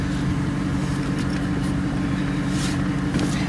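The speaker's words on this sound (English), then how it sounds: "I'm going to go for a drive and see if this North Star has any balls" A 2007 Cadillac XLR roadster with its Northstar engine on the move gives a steady, even drone of engine and road noise from inside the car, with no talking.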